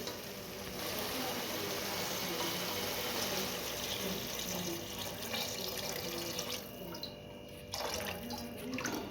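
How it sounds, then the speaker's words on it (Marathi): Water pours steadily into a pot with a continuous splashing rush, a few clinks near the end, and no talking. "आता आपण याच्यामध्ये पाणी ओतून घेऊ"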